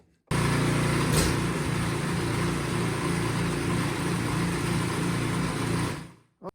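Two-stroke snow blower engine running steadily with its auger turning, a close, loud, even drone that holds for several seconds before cutting off.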